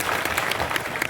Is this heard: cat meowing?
no